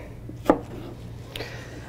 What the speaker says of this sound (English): continue dicing this up while my pans are getting warmer.